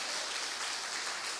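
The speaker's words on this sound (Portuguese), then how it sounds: "Aplauda ao Senhor Jesus mais uma vez" Congregation applauding at a church service, a steady, dense wash of many hands clapping throughout, moderately distant and filling the room with no voice on top.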